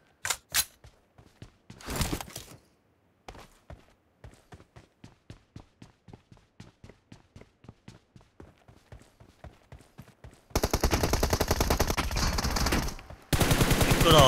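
Gunfire from a team deathmatch video game: rapid single shots and short bursts repeat steadily for several seconds, then give way to dense, continuous loud automatic fire toward the end, with no talk.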